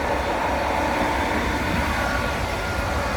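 Continuous rumbling roar of a passenger train running along the tracks between Calella and Girona, Spain, heard from inside, steady and loud with no speech.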